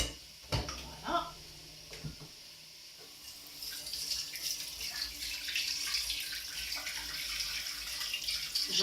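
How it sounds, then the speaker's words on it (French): Hands are washed under a running kitchen tap, a few knocks and clatters first, then a steady stream of water splashing into the sink for several seconds. "J'en suis évidemment au lavage des mains"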